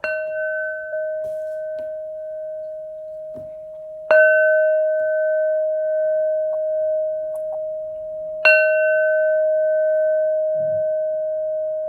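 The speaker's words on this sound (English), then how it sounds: "So, here's the bell." Three clear bell dings spaced a few seconds apart, each a bright ringing tone that sustains and slowly fades, with faint background noise between strikes.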